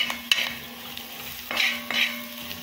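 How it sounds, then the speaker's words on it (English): Vegetables for an Indian mixed vegetable curry are stirred and sautéed in a pan, a soft sizzle under a few sharp spoon scrapes and clinks, close and moderately quiet with no talking. "Make sure it gets a proper stir. So this is going to be sauteed"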